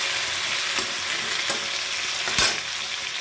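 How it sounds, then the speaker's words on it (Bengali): Prawns fry lightly in a pan with a steady, even sizzle, broken by a few sharp scraping clicks from stirring at irregular moments; no one speaks. "হালকা করে আমার চিংড়ি মাছটা ভাজা হয়ে গেছে"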